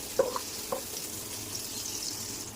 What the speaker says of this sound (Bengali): পেঁয়াজটাকে ভেজে নিচ্ছি।